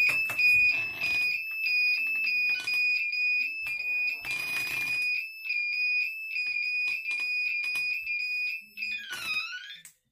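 An Intelbras FR-101 smart door lock sounds its alarm, a loud, shrill steady electronic tone held throughout, broken by short bursts of clicks and beeps from the keypad near the end.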